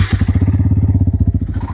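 A Bajaj Pulsar N160 motorcycle engine idles just after starting, its exhaust giving a loud, steady, rapid thumping pulse close by with no talk.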